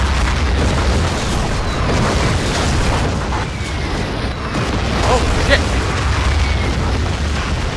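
Artillery shells exploding in the Battlefield 2 video game, a dense stretch of booming blasts and rumble over continuous loud battle noise.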